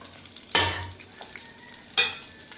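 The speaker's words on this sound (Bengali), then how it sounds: "গোটা মশলাগুলো দিয়ে দিচ্ছি, জিরা, এলাচ আর দারচিনি ভেজে নেব।" Whole cumin, cardamom, cinnamon and bay leaf hit hot oil in a pan for vegetable khichuri, giving two sharp sizzling bursts, each fading into a quiet crackle, close and without talk.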